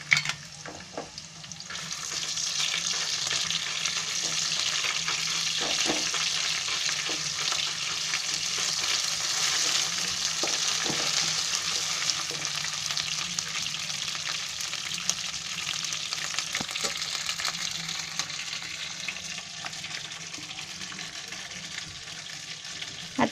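Ginger and garlic fry in hot oil for the spiced base of a pea pulao, giving a loud, steady crackling sizzle that runs continuously with occasional stirring scrapes and no voices.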